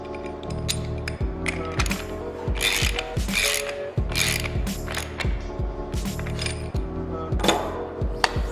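Rapid ratchet clicking from a hand tool tightening the top cap on a bicycle suspension fork damper, a steady run of close mechanical clicks in short bursts with no talking.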